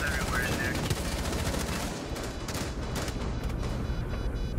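Gunfire in Rainbow Six Siege rattles in rapid automatic bursts, loud and close, with sharp shots clustering toward the middle and a brief electronic tone near the start.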